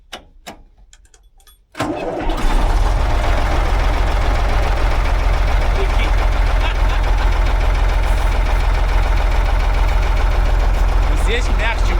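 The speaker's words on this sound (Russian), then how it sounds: "сейчас попробуем, как запустится МАЗ после зимней спячки" A MAZ truck sitting idle through the winter cranks briefly and fires up, then settles into a loud, steady, rough diesel idle close by. Voices speak over the engine.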